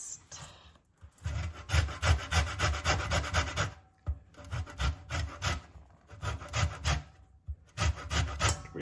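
Lemon zest grated on a hand grater, bursts of brisk rhythmic rasping strokes separated by brief pauses, close and fairly loud.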